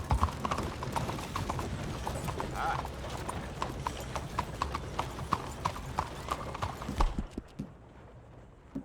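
Horse hooves clip-clop steadily in Red Dead Redemption 2, a brisk rhythmic gait on hard ground, fairly close, continuing for several seconds before fading to quieter ambience near the end.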